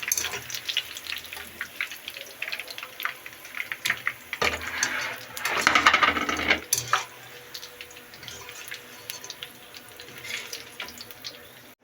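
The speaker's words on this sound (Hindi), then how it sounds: "अब हम इसमें प्याज डालते हैं फ्राई करने के लिए।" Onions sizzle and crackle in oil in a pan, swelling to a louder burst of frying partway through, with occasional clinks of utensils.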